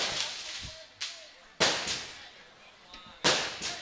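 Firecrackers set off at a village drama performance in Tamil Nadu, three sharp loud bangs spaced apart with crackling echoes between them and faint voices in the background.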